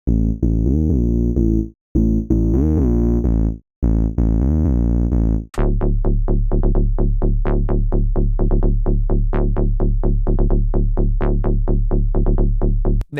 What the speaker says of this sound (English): Next is Bass Bomba, which is more of a bit crushed, low funky bass, which sounds like this.